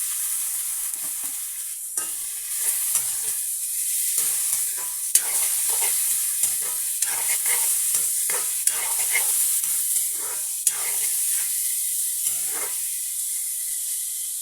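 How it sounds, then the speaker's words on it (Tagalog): Chicken breast sizzles in a hot pan while a utensil stirs it, a continuous loud frying hiss broken by scraping and clinking stir strokes, close up with no talking. "Ayan, isabay na natin yung ating chicken breast."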